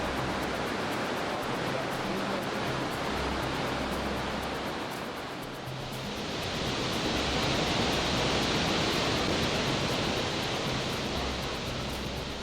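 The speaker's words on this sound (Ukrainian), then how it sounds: "Водоспад Ігуасу це місце, де можна відчути унікальну магію води та потужну енергію природи" Iguazu Falls roaring, a broad, constant wash of falling water that briefly dips and then swells again, dense and loud with no distinct events.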